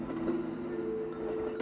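Train rattling along the rails in the horror video game Yurei Station: a steady low rumble and hum of the carriage, continuous and close, with no voices.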